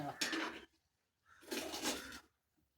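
Vegetables stirred in coconut oil in a pot over a wood-fired stove: two bursts of scraping and clattering spoon against metal, separated by a short pause, fairly close and moderately quiet.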